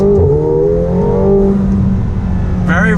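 A 2019 McLaren 720S engine blips and drops in pitch through downshifts, a loud, close mechanical drone with a rising rev flare at the end, heard alone without talk.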